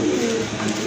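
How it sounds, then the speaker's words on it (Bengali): A pair of pigeons kept for sale coo close by in a brief, soft, throaty burble. "খুবই সুন্দর এক জোড়া কবুতর"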